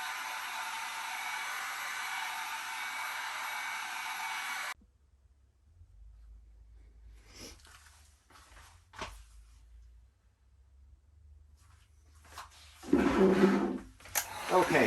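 Heat gun or hair dryer warming vinyl wrap on an ARRMA Kraton 6S/8S RC car body: a steady broadband blowing hiss for a few seconds, then it cuts off, leaving faint handling noises and a brief louder burst near the end.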